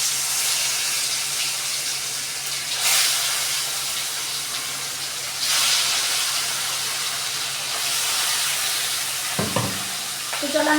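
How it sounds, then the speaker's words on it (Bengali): Fish sizzles in hot oil in a pan with a continuous, close hissing crackle that swells and eases in waves, plus a few clinks near the end. "এবার এক এক করে মাছটা ভেজে নেব।"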